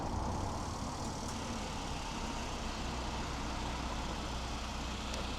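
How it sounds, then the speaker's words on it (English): A steady, low engine rumble drones on without a break, broad and continuous like a large vehicle idling nearby. "This dude's gonna do some idling, so it's gonna be noisy."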